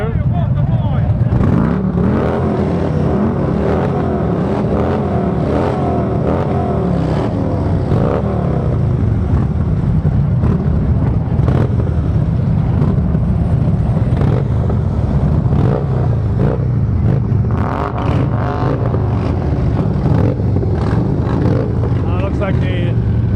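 Escort motorcycles pull away into traffic, engines revving and droning over a loud, busy roadway with wind buffeting the microphone and people talking throughout.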